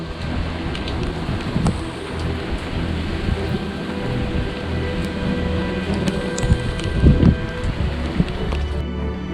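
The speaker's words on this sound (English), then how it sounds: "Wind picked up, rain's picked up." Typhoon heavy rain roars steadily with gusting wind at night, a low rumble swelling now and then beneath the constant downpour.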